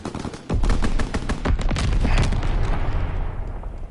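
Aircraft strafing run in a video game: dense rapid bursts of automatic gunfire with booming impacts, loud and close, rolling into a sustained rumble that slowly fades.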